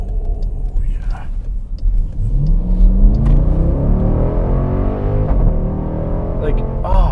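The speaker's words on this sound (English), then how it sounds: "I love the little blip when the exhaust gets right to the red line as you're shifting" A 2020 Dodge Durango SRT engine revs up with a rising, rumbling exhaust note that climbs steadily in pitch, loud and close, then drops back briefly.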